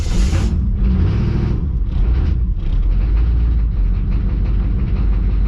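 A car engine is restarted and left running, with a loud, close, steady low rumble and mechanical rattle that continues without pause.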